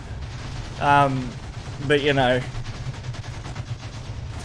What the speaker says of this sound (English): There's still so many fucking explosions